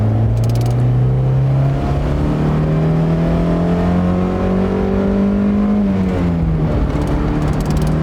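A Mazda Miata NA engine climbs steadily in pitch as it revs toward redline, a loud, close droning whine that peaks, dips sharply with a shift, then settles to a steady hum.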